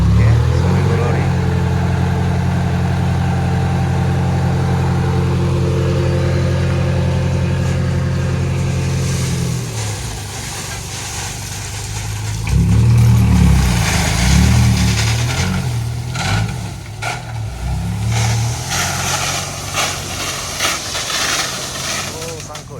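A lorry delivering fill to raise a low beach access road at Pantai Bumi Hijau, its diesel engine idling loudly and steadily, then revving and rumbling as the load is worked, with a voice talking briefly.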